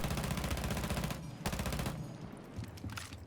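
Rapid automatic gunfire from a low-recoil weapon fitted with a compensator in the video game Rainbow Six Siege, heard as sustained bursts of fast shots with a short pause in the middle, fairly loud and without talk.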